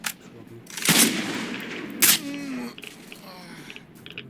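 Sniper gunfire in the video game S.T.A.L.K.E.R. Shadow of Chernobyl: two loud, sharp shots about a second apart, each with a brief echoing tail, followed by quieter game ambience.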